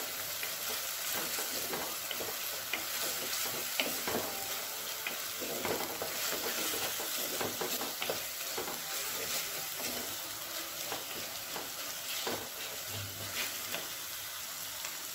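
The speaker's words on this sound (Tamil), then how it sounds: "இஞ்சி பூண்டு பச்சை வடை போகிற அளவுக்கு நல்லா வதக்கிக்கோங்க." Ginger-garlic paste sautéing with onions in a pan for quail curry, a continuous dense sizzle with frequent scraping and stirring clicks throughout, no talking.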